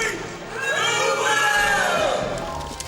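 A live audience at a Wind Waker Randomizer speedrun event cheers and shouts, a loud, sustained roar of many voices swelling and holding for about three seconds.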